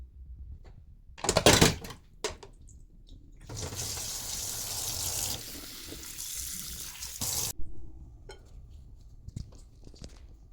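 Mung bean sprouts rinsed under a running tap, with handling clatter early, then a steady stream of water splashing in a sink for several seconds before it stops.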